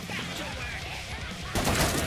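Rapid gunfire in the video game Killing Floor 2, a dense burst of shots under a speaking voice that swells louder in the final half second.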